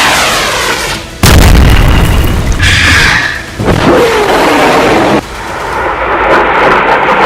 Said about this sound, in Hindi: इजराइल का ये डिफेंस सिस्टम फौरन एक्टिव हुआ और उसने हुथी की बैलिस्टिक मिसाइल को मार